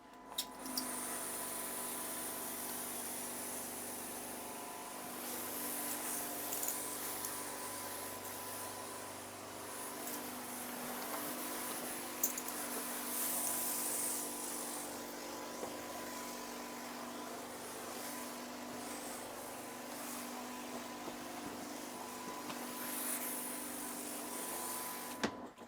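A motorized sprayer mists the inside of a greenhouse for spring disinfection, with a continuous close whirring hum and airy spray hiss that holds steady throughout, no voices.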